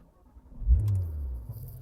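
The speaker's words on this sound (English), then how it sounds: "But let me start up the car first." A Porsche 991.2 GT3 RS starts up with a short crank and catches into a deep, steady idle rumble. It is close by and fairly loud, and no one speaks.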